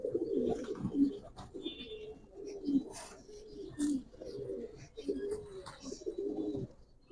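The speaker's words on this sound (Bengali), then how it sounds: "চিকন ফেদারের কবুতর এগুলো" Giribaz silver pigeons coo close by in a loft, soft repeated low rolling coos in an irregular rhythm, with faint chirps and rustling in the background.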